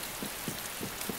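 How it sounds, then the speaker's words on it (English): Rain pours steadily in the video game DayZ, a broad continuous hiss with a few soft, low thumps spaced through it, no speech. "See, I think with the rain it's going to start flooding the ship."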